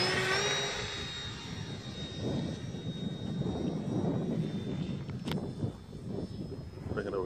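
An E-flite Turbo Timber Evolution RC plane on its maiden flight, its motor giving a steady high whine and airy rush that stays fairly loud throughout, with no clear talk over it.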